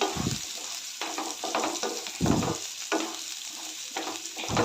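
Ridge gourd sautéing in hot oil in a pan, a steady sizzle broken by repeated scraping stirs that come in short bursts about every half second, close and moderately loud with no voices.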